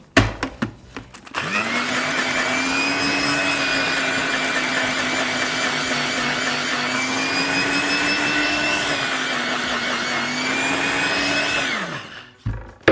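A small electric grinder whirs steadily for about eleven seconds as it pulverizes freeze-dried cheese, a loud, even motor whine close up that starts and stops abruptly, with a few clicks of handling before and after.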